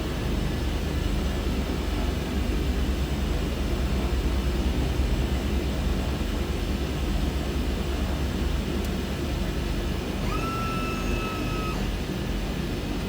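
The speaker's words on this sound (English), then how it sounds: "we'll do a short field takeoff" A small airplane on a short field takeoff near a Caribbean runway, its engine a loud, steady broadband roar throughout with no talking, a faint rising whine appearing near the end.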